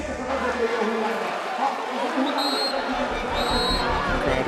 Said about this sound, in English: Crowd willing them on.